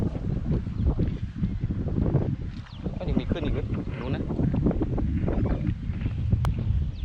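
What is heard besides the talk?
wind blowing over water near a boat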